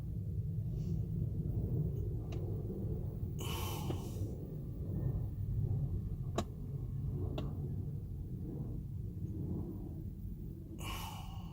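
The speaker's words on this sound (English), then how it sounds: "Motor's still actuating." An electric motor whirs faintly inside a 2011 Dodge Grand Caravan that will not crank and only clicks, a low continuous hum broken by a few soft ticks and short bursts of brighter noise.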